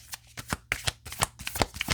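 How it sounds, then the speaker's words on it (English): A deck of tarot cards being shuffled by hand at close range, a rapid run of crisp riffling and flicking bursts with short pauses between them, with no voices. "All right, let's give it a shuffle."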